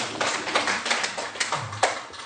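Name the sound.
audience clapping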